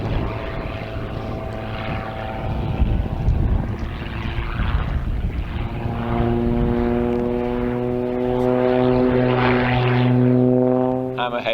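A propeller aerobatic plane flying a freestyle routine at the British Aerobatics Open Championship 2024, its engine drone loud and sustained, the pitch swelling and shifting as the aircraft climbs vertically and swings through manoeuvres.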